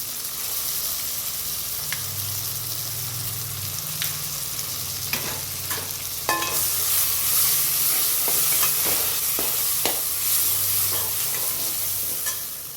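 Ginger and garlic sauté with mint in a pan for mutton biryani. The close, steady sizzle grows louder partway through, with sharp clinks of stirring against the pan and a low hum underneath.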